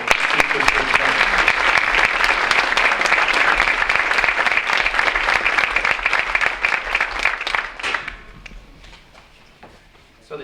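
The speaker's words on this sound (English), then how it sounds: "A round of applause to the teachers." Sustained audience clapping for teachers at a school Veterans Day ceremony, loud and dense for about eight seconds before thinning out and fading.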